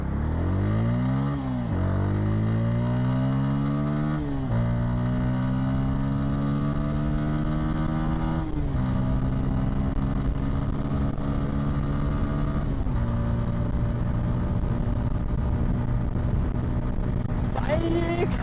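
A Bajaj Pulsar N160 motorcycle engine revs hard and accelerates through several gears on a test ride along Bangalore roads, each upshift dropping the pitch before it climbs again, loud and close throughout with wind noise.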